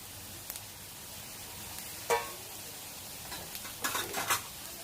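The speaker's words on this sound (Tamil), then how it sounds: "நம்ம மசாலாலாம் தடவி வச்சுருக்க சிக்கனை வந்து ஃப்ரை பண்ணி எடுத்துக்கலாம்" Masala-marinated chicken pieces frying in oil, a quiet steady sizzle with a few brief sharper crackles and scrapes.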